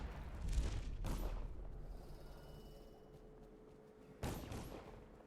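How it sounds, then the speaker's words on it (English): Several sharp gunshot bursts in the video game Dishonored, loud and close, with a volley early on and another blast near the end, separated by a quieter rumbling lull. "Definitely hearing gunshots."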